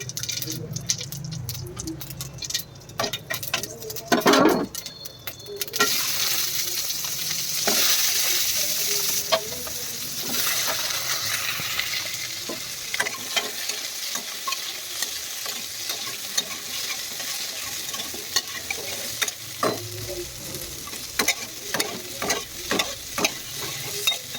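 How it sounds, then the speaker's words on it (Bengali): Mustard seeds tempering in hot oil on a stove, a bright, hissing sizzle with scattered sharp pops and crackles, close and continuous, with some stirring clatter early on and faint rattles later. "চলো আমার চুলা গরমও হয়ে গেছে একটু তেল একটু সর্ষে ফোড়ন"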